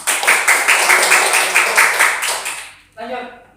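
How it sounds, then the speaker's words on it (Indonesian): A classroom group claps hands together in a dense, energetic burst for about two and a half seconds before stopping abruptly, followed by a short spoken phrase nearby. "Masa tepuk tangannya gitu? Tepuk tangan dong."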